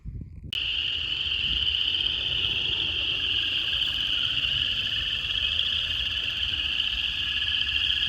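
A spring chorus of frogs rises in Missouri wetlands: chorus frogs, spring peepers and toads call together. After a brief rustle, a dense, continuous high-pitched trilling and peeping begins and carries on steadily at moderate distance.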